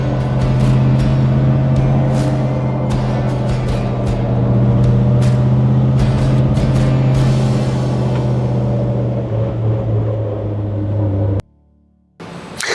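A 1956 Chevrolet Bel Air convertible cruises along with a steady, loud engine drone that holds for about eleven seconds, then cuts off abruptly as the car stops, leaving a brief quiet moment.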